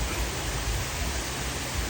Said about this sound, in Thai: นี่ครับ บรรยากาศน้ำตกครับท่านผู้ชมครับ